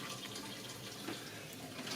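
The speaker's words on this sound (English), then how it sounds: "There's a lot of water running into the pump, a lot of water running into the sump." Water runs steadily into a sump pit, a faint continuous rushing and turbulent splashing heard from a little distance with no talk.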